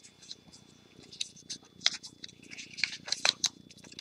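A paper trimmer slices through card stock during box-making: soft, quick swishing cuts in short bursts, fairly close but quiet, with a few sharper scraping strokes toward the end.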